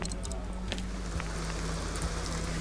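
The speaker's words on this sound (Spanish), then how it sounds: "se largó a llover" Steady rain falls in The Sims 2, a constant even hiss of drops with faint scattered pattering over a low background hum.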